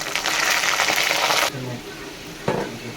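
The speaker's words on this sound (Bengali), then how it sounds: "আলুগুলো আমার লাল লাল করে ভাজা হয়েছে" Potato pieces frying in a pan for a mutton curry, with a loud dense sizzle for the first half that abruptly drops to a quieter hiss, followed by a brief clatter of a utensil.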